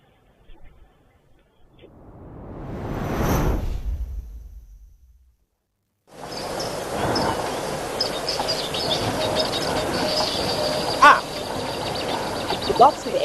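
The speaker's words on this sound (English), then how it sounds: "Listen to all the birds." Many birds call and chatter at a waterhole in Tembe on the far east coast of South Africa, a dense outdoor chorus that swells after a quieter opening with a passing rumble, steady and fairly close with occasional sharper calls.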